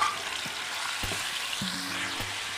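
Chicken pieces fry in a hot pan with a steady bright sizzle, close up, while a few low knocks and scrapes of stirring sound underneath.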